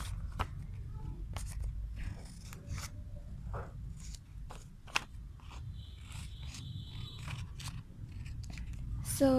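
Scissors snipping through paper while a paper craft is cut out, giving a run of close, crisp, irregular cuts and rustles over soft background noise.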